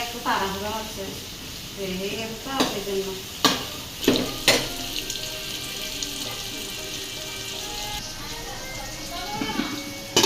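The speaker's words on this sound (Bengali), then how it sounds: "এই চুলাই বরবটি বাজা হবে" Long beans (borboti) frying in a pan on a village stove, with a steady sizzle and several sharp scraping stirs, running water nearby, and a person talking throughout.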